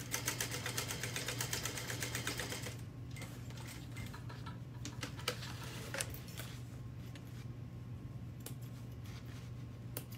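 A sewing machine back stitching a garment, a quiet rapid mechanical ticking run for a few seconds, then a softer slower clicking hum under a steady motor drone.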